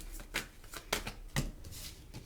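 Tarot cards being shuffled by hand, a few quick riffling bursts of crisp papery flutter close up in a quiet room, with no talking.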